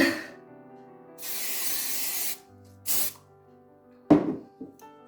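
Hairspray is misted onto hair during a 1920s-style hairstyling session, with a long hissing spray burst followed by a shorter one, then a couple of soft knocks as the can is handled.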